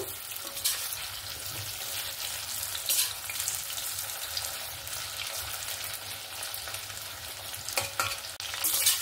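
Chicken pakora frying in hot oil as the pieces are turned over, a steady close sizzle with occasional scraping and stirring clatter throughout.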